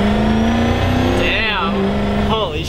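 A turbocharged 500 hp school bus accelerates hard, its loud engine roar holding steady with a rising whine near the middle, while people talk excitedly over the noise.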